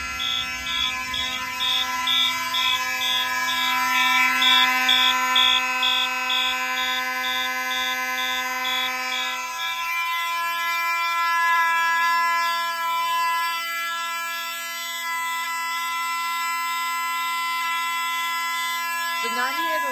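Simplex fire alarms sounding together during a system test, with a loud, continuous electronic horn tone and a rapid repeating high pulse that drops partway through while the other alarm tones keep going.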